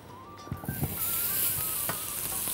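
Onions hitting a pan and starting to sauté, a hiss that swells quickly after a few soft clatters, then a steady close sizzle with a faint tone underneath.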